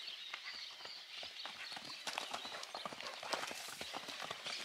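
Hooves of a tobiano horse, a cross with a tall Spanish saddle horse, clip-clop steadily while it works cattle in the field, a busy run of close, uneven hoof strikes with faint background voices.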